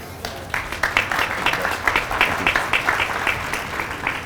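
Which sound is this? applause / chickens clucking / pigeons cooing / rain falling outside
applause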